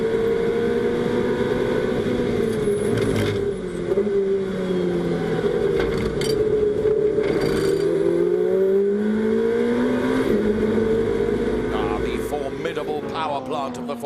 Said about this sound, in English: This is what the Ferrari Challenge sounds like.